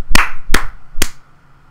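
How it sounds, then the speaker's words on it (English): One person claps for himself three times, sharp, close and evenly spaced, each clap ringing briefly before silence. "I'm applauding myself."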